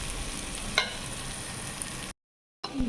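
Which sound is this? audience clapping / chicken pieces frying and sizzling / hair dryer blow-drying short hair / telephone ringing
chicken pieces frying and sizzling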